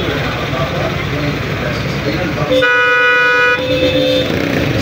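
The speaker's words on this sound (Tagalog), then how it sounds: "So, medyo matraffic lang." Busy street traffic around a market in Lipa, Batangas, with cars and motorcycles rumbling close by and a car horn blaring for about a second, while people talk over the noise.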